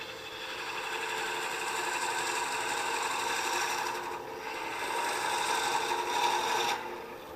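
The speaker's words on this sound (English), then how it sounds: "the gouge cuts pretty cleanly" A gouge scrapes and cuts a small wooden ornament spinning on a lathe while it is hollowed. The steady, close rasping hiss holds for several seconds and eases briefly before resuming.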